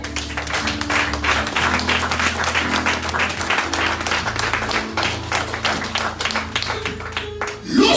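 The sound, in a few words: congregation applauding in church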